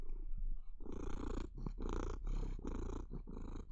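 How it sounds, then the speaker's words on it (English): A 14-year-old diabetic cat with a bad eye purrs loudly right at the microphone in a rhythmic rumble of repeated inhale and exhale pulses, alone with no talking. "He purrs super loud."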